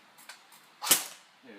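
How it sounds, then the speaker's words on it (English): A JG Star Dragon airsoft gun fires a single semi-auto shot, a sharp close crack standing out against quiet surroundings, with faint handling noise before it. "we'll be shooting some semi-auto, showing the feeding"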